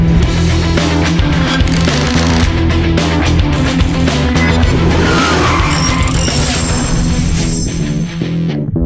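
A Chevrolet C-10 truck engine in a shop roars loudly and continuously as it runs for the first time, a dense, harsh mechanical roar that stays strong from start to finish.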